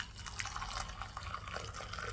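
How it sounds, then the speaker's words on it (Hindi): Boiling water is poured into a black coffee mixture, giving a steady, close liquid splashing and trickling with faint bubbling that runs through the whole short clip. "गर्म पानी इसके अंदर डाल दें"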